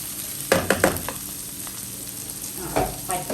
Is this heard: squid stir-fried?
yes